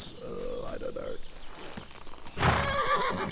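A horse in Kingdom Come: Deliverance II whinnies with a wavering neigh, and a second, louder whinny follows alongside clip-clop hoofbeats over steady outdoor game ambience.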